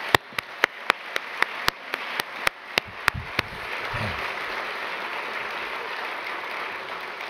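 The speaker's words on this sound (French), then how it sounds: "Je vous demande, s'il vous plaît, de les applaudir" Applause at a conference starts with a series of sharp, loud individual claps from one close pair of hands, then swells into a softer, denser round of clapping from the wider audience.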